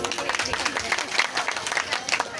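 An audience at a Shrimad Bhagwat Katha religious gathering claps together, a dense, steady patter of many hands at moderate loudness that carries on throughout.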